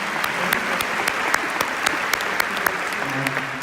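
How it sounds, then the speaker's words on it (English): Applause from a large conference audience of thousands, a steady wash of clapping with sharp individual claps standing out, heard from within the hall without any speech over it. "You want to clap your hands,"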